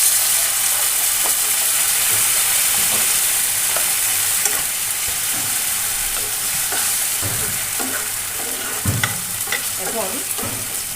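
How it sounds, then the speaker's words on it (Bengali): Potatoes and onion frying in a pan give off a loud, steady, continuous sizzle after a splash of water is added. Occasional stirring clicks and spits come through close up, with no talk. "ভাজা ভাজা হয়ে গেছে, সামান্য জল দিয়ে দিচ্ছি।"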